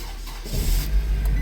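A used Nissan car's engine cranks and catches after a short quiet moment, then settles into a low, close idle rumble.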